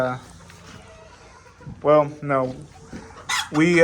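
Crossbred hens from a silver duckling line and their offspring cluck and call in short, loud bursts close by, with one longer crow-like cry, while a person talks over them.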